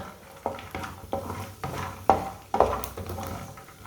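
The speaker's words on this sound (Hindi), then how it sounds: "पिस्ते और काजू को चम्मच चलाते हुए भूनना, ये बहुत जल्दी ही जल जाते हैं।" Pistachios and cashews roasting over low heat in a pan, stirred with a spoon: a series of separate scraping, clinking strokes at an irregular rhythm over a soft background hiss, close and fairly quiet.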